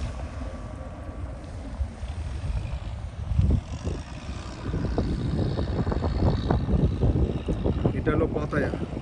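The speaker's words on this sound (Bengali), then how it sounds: "ওই যে বোট" A boat moves on the sea at Pattaya, its rumbling engine and water noise swelling in the second half under wind buffeting the microphone, with voices talking nearby.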